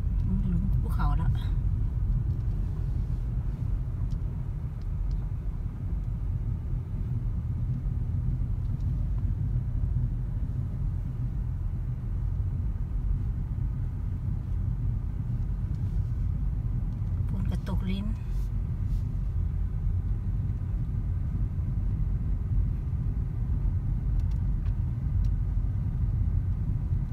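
Steady low engine and road rumble comes from inside a car driving slowly down a mountain road. The hum is continuous and even throughout, with a couple of brief knocks or clicks.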